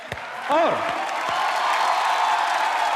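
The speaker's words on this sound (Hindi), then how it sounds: "मैं चाहूंगा कि आप सबके लिए जोरदार तालियां हो जाए" A television studio audience at a comedy show breaks into sustained applause, a dense, even wash of clapping that carries on after an excited voice rises briefly at the start.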